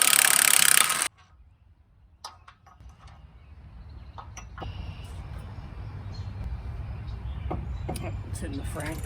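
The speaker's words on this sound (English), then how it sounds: "I'm going to pull the steering box bolts." Ratchet working the steering box bolts free on a rusty 1998 Jeep Wrangler TJ: steady clicking mechanical noise builds in the second half, with scattered sharper ticks and a quiet start.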